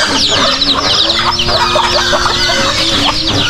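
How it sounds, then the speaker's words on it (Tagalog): A crowd of farm chickens clucking and squawking close by, a dense, continuous overlapping chatter of fowl calls. "Kaya mabilis lalo napapadami itong mga manok natin dito."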